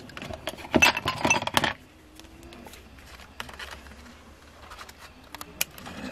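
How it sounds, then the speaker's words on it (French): Scissors snip through paper card in a quick cluster of sharp, close cuts, followed by quieter scattered snips and light handling sounds. "vous prenez votre paire de ciseaux pour terminer le reste"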